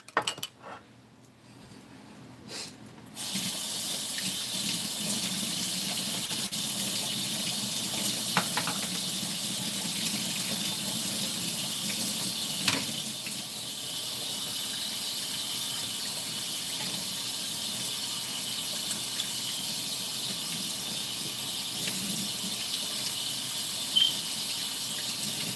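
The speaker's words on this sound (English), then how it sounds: "Rinse off my spoon." Kitchen tap water runs steadily into a sink while a spoon is rinsed, a continuous close splashing hiss after a brief quieter start, with no talking.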